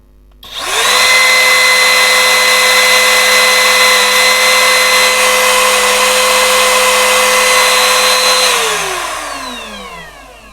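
A Modern M80 cordless wood trimmer spins up to its top speed setting 6, holding a loud, steady high-pitched whine for several seconds before winding down near the end.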